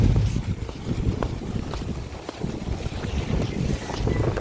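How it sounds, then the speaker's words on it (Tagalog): Low rumbling wash of water and wind around a passing boat, continuous and fairly loud, with gusty buffeting on the microphone. "Ay, dito dumadaan ang mga babangka yan."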